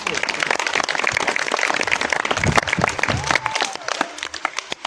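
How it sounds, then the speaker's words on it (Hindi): A church congregation in Pakistan breaks into loud, sustained applause, dense clapping that carries on with a voice speaking over it before thinning out near the end. "इस भाई के लिए जोरदार तालियां हो।"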